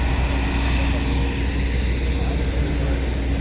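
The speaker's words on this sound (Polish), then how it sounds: "To jest nasz samolot" A passenger airplane's engines hum at an airport with a constant loud drone and steady tonal whine, a continuous roar filling the whole stretch with no change in level.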